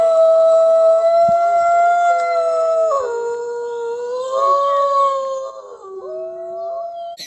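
A gray wolf howls in long, sustained, wavering tones, the pitch sliding and stepping down across several drawn-out calls with a second voice layered underneath, loud and clear with no talk.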